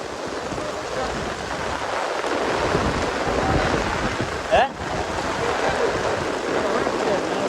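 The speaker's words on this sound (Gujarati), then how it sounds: "તો નાળામાં પાણી જાય છે" Rainwater rushing through a village drain after heavy rain, a continuous loud churning flow with wind buffeting the microphone and one short clunk midway.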